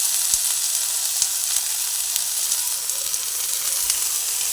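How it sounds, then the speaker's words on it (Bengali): Fish pieces sizzle on a tawa in a little oil over a low gas flame, a steady close crackling hiss with occasional sharper pops and no talking. "অল্প করে তেল দিয়ে এর উপরে এক এক করে মাছগুলোকে দিয়ে দিলাম"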